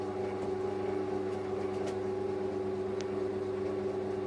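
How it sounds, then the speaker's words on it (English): Horizontal milling machine cutting through a length of steel plate, a steady, continuous mechanical hum with a constant tonal drone and faint occasional ticks, no voices. "Now the milling machine bed is at its extreme limit at this point, and it should just about cut through this length of plate"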